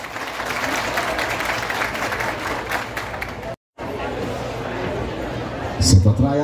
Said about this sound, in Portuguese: aplausos por presença.